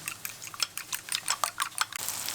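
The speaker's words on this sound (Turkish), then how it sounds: "birazcık damak zevkine göre tuz ve yumurtamızı çırpalım" Two eggs with a pinch of salt whisked in a bowl, a quick series of light clinking taps of utensil against the bowl, close and fairly soft, with no talking.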